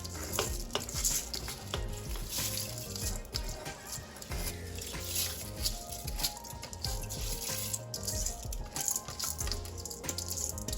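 Rice being stirred in a pot of water for Jamaican pumpkin rice, with a busy wet sizzle and scraping swirl under irregular clinks of the spoon against the pot, continuing without pause and without voices.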